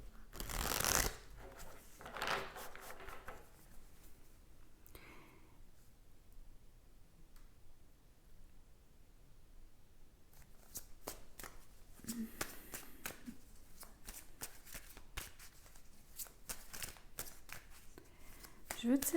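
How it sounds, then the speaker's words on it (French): Tarot cards shuffled and drawn: close bursts of riffling and flicking cards, then a stretch of quick papery ticks and slaps, with a voice talking throughout. "Je veux tirer d'autres cartes."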